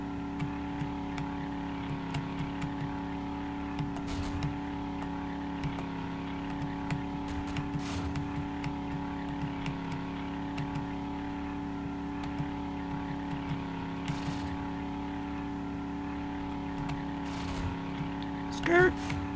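Car driven in the survival video game 7 Days To Die, a steady droning engine hum with slight revving shifts throughout, heard alongside game sounds.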